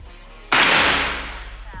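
Single shot from a stainless PCP big-game air rifle firing a 10.65 pellet, a loud sharp crack followed by a roaring tail that decays over about a second, with no talk over it.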